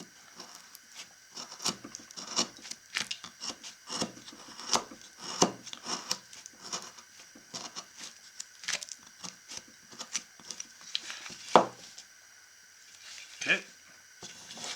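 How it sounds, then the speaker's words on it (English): A carving knife shaves and scrapes wood from a carved bear figure near the arm, giving a steady run of short, close scraping and cutting strokes of uneven rhythm. "Come back in here and cut that wood off there."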